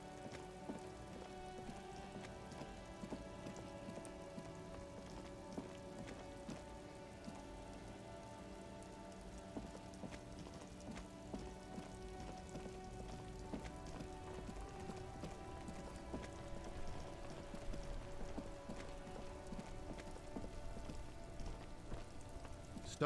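Steady rain pattering on surfaces in the video game Disco Elysium, a continuous even hiss with scattered droplet ticks, alone and fairly quiet throughout, over faint tonal music-like layers.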